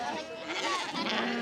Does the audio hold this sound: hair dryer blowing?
no